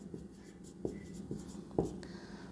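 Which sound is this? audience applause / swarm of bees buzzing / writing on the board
writing on the board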